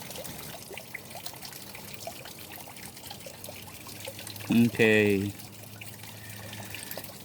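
Hose water trickles and pours steadily during gold panning, a constant close wash of liquid with a short spoken word briefly over it.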